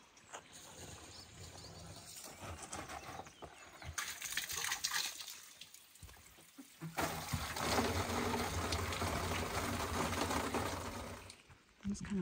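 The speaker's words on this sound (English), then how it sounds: "Nice little stream." A small stream of clean fountain-fed water runs through pastoral countryside in Portugal's Alentejo, a continuous bright trickle and babble nearby that swells louder in the second half with faint outdoor rustling.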